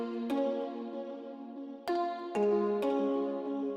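A two-layer synth lead, a sustained lead and a plucky layer, plays together through hall reverb and slap delay in an 80s pop, disco style beat: a few bright struck chords ring out in a steady, spacious phrase with no talking.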